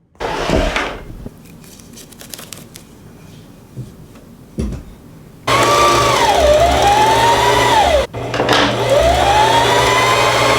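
A sewing machine stitches ruffles onto a dress in two loud, steady whirring runs, briefly stopping between them, after quieter handling clicks and rustles, with no talking.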